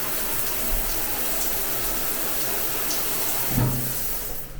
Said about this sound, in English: I'll just show you what the water pressure is like.